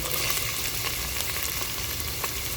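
Chopped mixed vegetables for upma fry steadily in a pan, a continuous close sizzle with faint stirring scrapes throughout.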